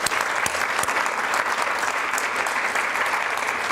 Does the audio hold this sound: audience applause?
yes